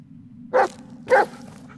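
A dog in the Blair Witch horror video game barks twice, about half a second apart, each bark short and fairly close over a low constant background hum.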